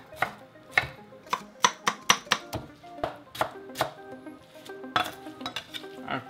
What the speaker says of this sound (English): And we'll just cut that down to bite-sized pieces.